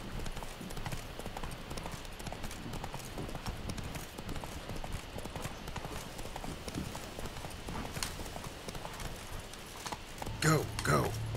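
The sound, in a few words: horse hooves galloping in The Witcher 3 video game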